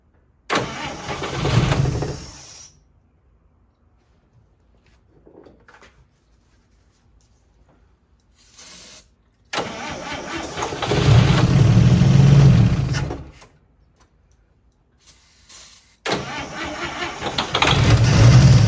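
A 1955 Chevy that sat parked for 40 years cranks in several loud, close bursts as the starter grinds and the engine tries to catch, with quiet pauses between attempts.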